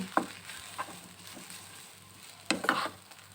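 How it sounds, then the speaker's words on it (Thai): Egg being stir-fried with rice noodles in a pan for southern Thai coconut-milk noodles, quiet scraping and stirring strokes with a faint sizzle, two brief clusters of spatula clatter separated by a low, steady hiss. "โปรยไข่ลงไปผัดให้เข้ากัน"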